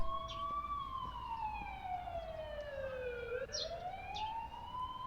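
Ambulance siren outside a school, a faint, distant wailing tone that sweeps slowly down and back up over a low background rumble, with no talk.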